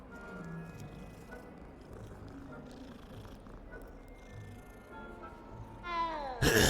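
A cat meows in Hogwarts Legacy, soft mews over quiet ambient game sound, then a louder, closer meow at the end.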